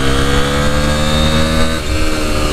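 A Derbi 125cc motorcycle engine revs hard during a test ride, a loud, buzzing, steady drone with a brief dip partway through. Heard close up, with no voices.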